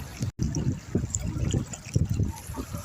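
Strong flood water rushes over a paddy field and the road beside it in the monsoon rain, making a constant close churning and gurgling with uneven surges.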